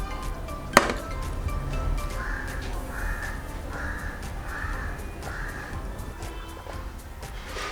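A crow caws five times in a steady, evenly spaced series outdoors in Kerala, moderately close, with a sharp knock just before and faint background clatter throughout.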